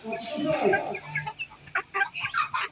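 A hen clucking beside her newly hatched chicks in a rural yard, soft, close clucks and small peeps broken into short bursts, with a person talking over them.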